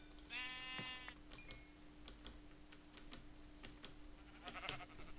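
A single short sheep bleat in a modded Minecraft video game, followed by faint regular clicking game sounds, with no talk.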